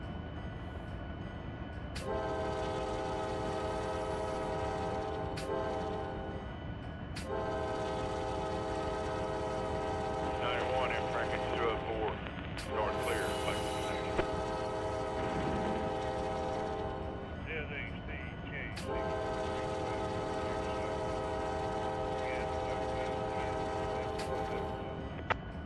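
Freight train in the Run 8 train simulator, running through Alabama: a loud, sustained multi-tone horn sounds in long blasts, repeated several times over steady engine rumble, with brief spoken voices between blasts.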